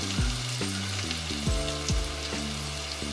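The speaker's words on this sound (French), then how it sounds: "c'est à partir de ce moment-là que ça va commencer un petit peu à grésiller, à coller" Cumin, turmeric and paprika sizzle and crackle steadily in a hot pan, close and fairly loud, with repeated stirring or scraping knocks through the sizzle; no one speaks.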